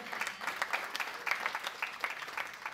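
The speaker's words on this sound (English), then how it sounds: "A round of applause for everyone once again." Soft, scattered audience applause follows a final BMus drum recital, the claps fairly distant and low in level, continuing steadily without any voices.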